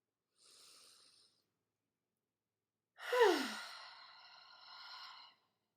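A long cleansing breath in a calm yoga and meditation session, with a soft inhale followed by a louder sighing exhale that trails off, close and alone without talk.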